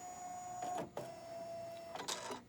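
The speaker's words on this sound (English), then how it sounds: "Push the button for automatic threading." The automatic needle threader on a Janome 15000 sewing machine runs in a short mechanical whir and clicks over a steady electric hum, giving two brief bursts of motor and latch noise close up.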